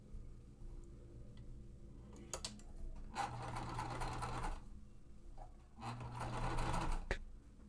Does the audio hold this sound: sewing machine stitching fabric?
yes